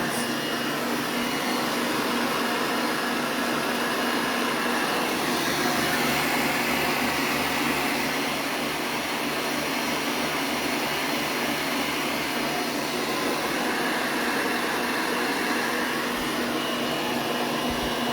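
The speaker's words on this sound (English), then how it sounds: "I love my mixer." Stand mixer whipping cheesecake filling, a steady loud motor whine and hum running continuously without pause.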